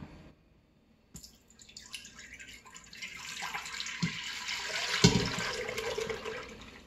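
Store-bought whole milk pours in a steady liquid stream into the inner pot of an Instant Pot, starting after a short quiet moment and growing fuller and splashier as it flows, close up with no talking.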